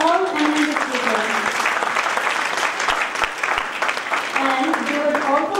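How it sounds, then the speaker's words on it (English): Sustained applause from a conference audience, a steady dense clatter of clapping hands filling the room throughout, with a few voices faintly underneath. "big round of applause for our all eminent speakers"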